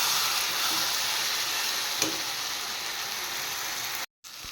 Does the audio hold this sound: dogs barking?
no